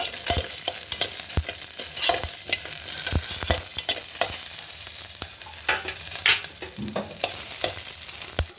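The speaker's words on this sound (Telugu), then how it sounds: "పచ్చిమిరకాయలు వేయించుకుంటున్నాను ఫ్రెండ్స్ చూడండి నూనె కూడా కాగింది" Green chillies fry in hot oil in a home kitchen: a steady, bright sizzle runs throughout, broken by sharp utensil clacks and scrapes as they are stirred at irregular intervals.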